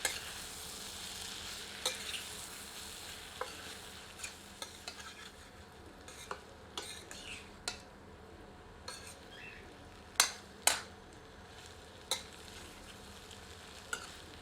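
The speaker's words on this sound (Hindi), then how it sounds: "सबको अच्छी तरह मिला देते हैं" Chicken keema kaleji with kasuri methi and chopped green chillies is stirred and mixed in a pan, soft sizzling running throughout, broken by scattered scrapes and clinks of a spoon against the pan.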